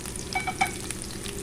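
Garlic, cut in fairly large pieces, fries in a pan for creamy chicken, giving a close steady crackling sizzle with a few bright spatter pops and a quick stir over a short moment.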